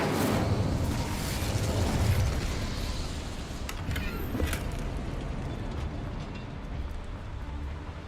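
An Incendio fire spell in the Hogwarts Legacy video game bursts and roars, a loud whooshing blast followed by crackling flame and a few sharp pops that slowly fade.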